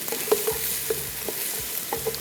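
Chopped large onion frying in a pot, a soft continuous sizzle with a few light stirring knocks, under faint background music.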